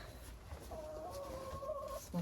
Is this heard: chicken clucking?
yes